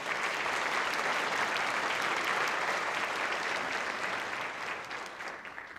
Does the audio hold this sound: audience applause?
yes